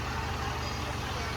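A goods vehicle's engine idles steadily, a low even rumble with a throbbing pulse, close by, with people talking over it.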